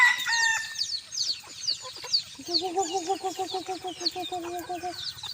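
Bantam chickens on a hot evening give busy, overlapping clucks and chirpy calls, then a rooster crows in a long rhythmic, repeated call that carries over the continuing flock chatter nearby.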